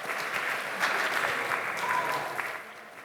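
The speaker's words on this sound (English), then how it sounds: "Can we give a round of applause to Qaisra, please?" A room of people at the Macfest opening ceremony applauds steadily for a few seconds, a fairly soft even clapping that thins out toward the end.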